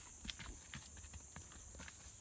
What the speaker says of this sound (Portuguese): Aí o Ivaldo no cavalo